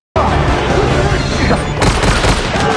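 Gunfire rattles in rapid, loud bursts during a Hobbs & Shaw battle against Brixton and Eteon fighters, mixed with a voice, crashes and a sharper blast near the end.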